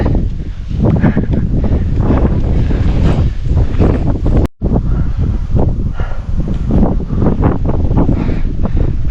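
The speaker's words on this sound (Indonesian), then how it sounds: "karena anginnya kencang cuy" Strong wind buffets the microphone on a mountain trail during a trail run on Merbabu, a loud continuous roar of gusts with a brief dropout midway and no speech.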